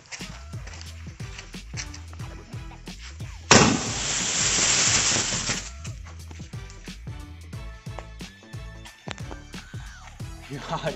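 A Diwali green sky shot firecracker bursts suddenly into a loud, crackling hiss lasting about two seconds, amid scattered clicks and footsteps.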